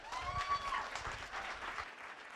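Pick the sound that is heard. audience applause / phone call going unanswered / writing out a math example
audience applause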